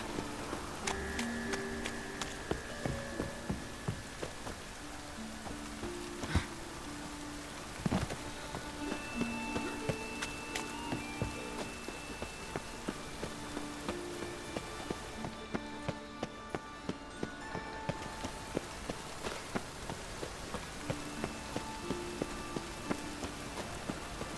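Steady rain patters without a break in The Witcher 3, with scattered chiming tones and light clicks sounding over it.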